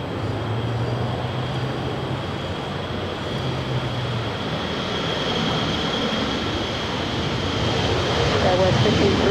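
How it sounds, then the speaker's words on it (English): A Delta Airbus A321 jet departs LAX, its engines a broad roaring rumble that holds steady and swells toward the end, with a voice talking over the first few seconds. "This next departure is Delta 548 departing to Atlanta."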